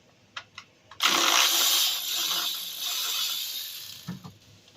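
A 13 mm socket removing the intake manifold bolts on a 2007–2016 GMC Acadia 3.6L V6: a few quick ratchet clicks, then a sustained close grinding whir for several seconds, ending in more scattered clicks.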